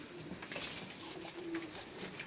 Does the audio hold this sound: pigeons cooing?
yes